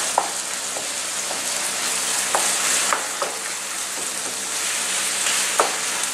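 Ground beef and onions fry in a pan for lasagna, a steady close sizzle broken by occasional scraping and clicking stirs of a utensil against the pan, with no talking.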